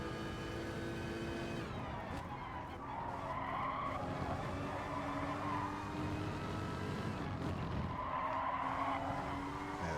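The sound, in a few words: Porsche race car accelerating in a racing video game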